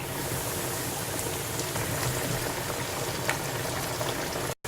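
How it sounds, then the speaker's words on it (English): Ribs deep-frying in hot grease for a soul food dish: a steady, dense bubbling crackle that runs unbroken and fairly loud, with no voices and a brief dropout near the end. "So I'm going to go ahead on and drop them down in the grease."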